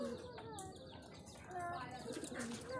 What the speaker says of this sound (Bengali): তো দাদার লফটে বিভিন্ন জেনারেশনের কবুতর রয়েছে